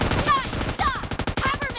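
Rapid close gunfire rattles in the PUBG Mobile Lite team deathmatch mode, a quick string of sharp shots over less than two seconds, mixed with brief electronic game sounds.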